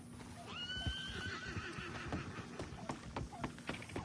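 In the video game Red Dead Online, a horse gives a rising whinny, with the clip-clop of hooves and other faint game sounds beneath, all fairly quiet.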